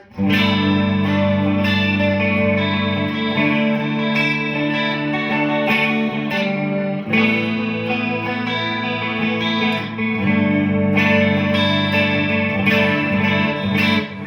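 Gibson Les Paul Slash Collection electric guitar on the neck pickup, a warm, rounded tone playing a melodic rock phrase with chorus and light echo, notes sustaining over about fourteen seconds.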